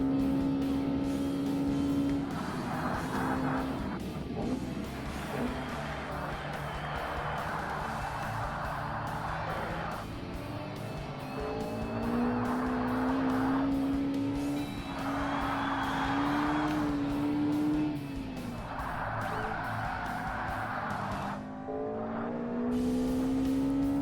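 Ultra-light race cars lapping a circuit in Forza Motorsport (Xbox, 2005), engines droning and rising in pitch through repeated gear runs, with a steady roar of several cars close by and no talking.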